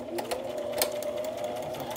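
A sewing machine stitches through a paper envelope, giving a quick rapid mechanical chatter close up with a few sharp clicks, heard briefly and steadily throughout.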